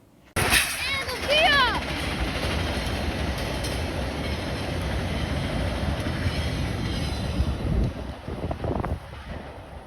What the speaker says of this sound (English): At the front of this train is via 914.